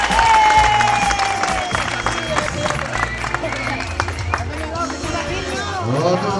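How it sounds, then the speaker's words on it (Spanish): A crowd applauds along a running race route while an announcer talks in Spanish over it; the clapping and cheering stay fairly loud and steady throughout. "Fuertísimo aplauso, vamos Luis."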